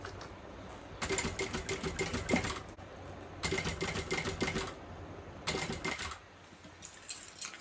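A sewing machine back stitching along the raw edge of fabric for a bucket bag, stitching in three quick bursts of rapid rattling with short pauses between them, close and fairly quiet.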